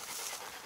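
A hunting dog pants after running along a shady path on the first day of hunting season, a faint, steady breathy rasp close by with no talk.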